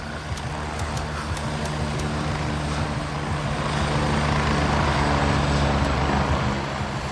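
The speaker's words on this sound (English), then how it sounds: "that's the first enemy chopper we've heard" An enemy helicopter flies in a video game, its engine and rotor making a loud, steady, continuous drone that swells slightly midway, with no talking over it.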